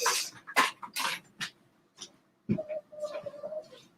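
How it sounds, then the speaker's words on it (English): A female dog named Sophie whines indoors, wanting to be lifted onto the sofa: a few sharp scuffling noises, then a drawn-out, wavering high whine that rises and falls for about a second before trailing off. "I hear my dog whining"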